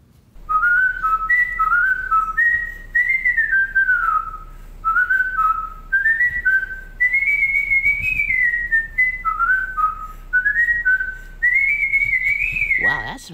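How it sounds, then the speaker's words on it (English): A cartoon pig character whistles a clear, bouncy melody in short repeated phrases, loud and close, with brief pauses between phrases and no talking. "I'm a pig, and I definitely can whistle."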